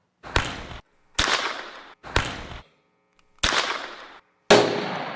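Five sharp small-caliber gunshots, each louder than an M80 firecracker, spaced irregularly about a second apart, every crack followed by a short echoing decay and silence between.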